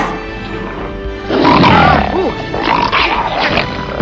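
A lion's roar used as a sound effect in a children's bedtime story: a loud, growling roar swells up, then breaks into rough, rumbling grunts that fade.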